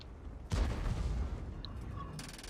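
A tank cannon fires in a tank video game with one loud, booming shot that rolls out and decays over the next second, followed by fainter game effects and a later burst of noise.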